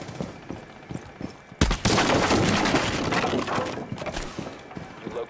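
Gunfire in Rainbow Six Siege, light footstep-like taps followed by a sudden loud burst of rapid automatic shots that continues as a dense, crackling volley.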